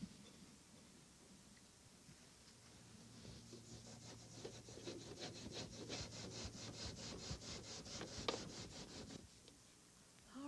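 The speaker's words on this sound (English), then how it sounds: "take a little scrubbing pad and work the surface a little" A scrubbing pad rubs chemical stripper and loosened stain and varnish off a wooden furniture surface, a steady, quiet back-and-forth scratching that builds into a rapid even rhythm, heard alone.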